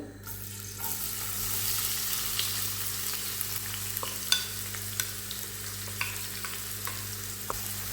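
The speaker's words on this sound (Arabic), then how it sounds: "نقلو مليح البصل تاعنا واحد ل5 دقائق" Onions frying in oil in a pan give a steady, close sizzle throughout, with occasional small pops and scraping clicks of stirring over a low hum.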